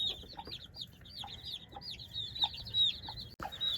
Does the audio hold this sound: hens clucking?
yes